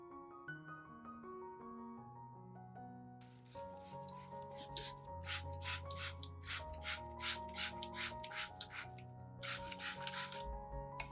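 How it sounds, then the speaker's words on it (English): A spray bottle of garlic mixture is pumped again and again over an orchid in quick, rhythmic bursts of misting hiss, close by, over steady background music. "put the mixture into a spray bottle and mist the whole plant once a month"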